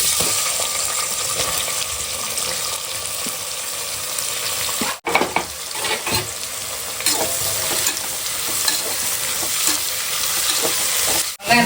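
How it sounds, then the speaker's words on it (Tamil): Onions fry in a pan for chicken biryani with turmeric and cardamom, giving a loud, continuous close sizzle broken by brief stirring scrapes and a short clatter midway, with no talking. "இது கூட வந்து நம்ம வெங்காயம் போட்டுக்கலாம்"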